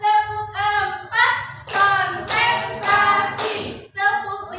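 A school class claps in rhythm on command, bursts of hand claps in short patterned groups, loud and close, with children's voices chanting along between and over the claps.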